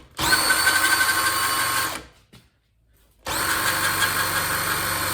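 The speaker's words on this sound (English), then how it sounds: "Now, I'm going to spin it with the drill." An electric drill spins an engine magneto for a spark test, a loud steady whine running for about two seconds, a short silence, then the drill starting up again at the same pitch.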